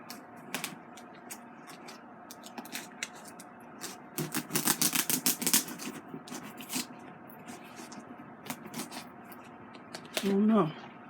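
Paper rustling and crinkling while a letter is pulled from a mail package, with bursts of crisp crackling growing busier midway, and a person talking over it.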